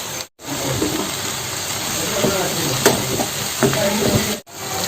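Chopped tomato tipped into a pan while frying masala for mutton kurma, a steady close sizzle with occasional stirring clatters, cut by brief silent gaps at the start and end.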